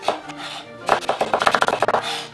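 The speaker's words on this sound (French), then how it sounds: "on enchaîne avec le gingembre, en lamelles, en bâtonnet" A knife chops peeled ginger into thin slices and sticks on a cutting board. A fast, irregular run of sharp, close taps builds into a quicker burst, with no talking over it.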